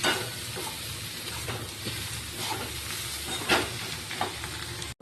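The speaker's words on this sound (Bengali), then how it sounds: "আমার বাঁধাকপি ভাজা ভাজা হয়ে গেছে" Shredded cabbage fries with a steady sizzle in a pan on its own, overlaid by repeated scraping stirs and occasional louder clacks of the spatula.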